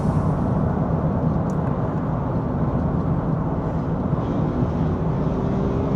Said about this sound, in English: it's a motorcycle rider acting like, oh, he's going around a car.